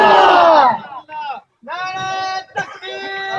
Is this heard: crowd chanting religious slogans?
yes